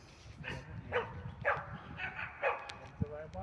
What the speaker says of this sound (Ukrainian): А, там вон люди йдуть із собаками теж.